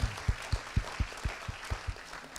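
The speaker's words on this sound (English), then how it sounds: "let's have a big applause for everyone here" Audience applause at the closing of a live conclave session, heard as a series of soft, evenly spaced heavy thumps rather than dense clapping, fairly distant and low in level.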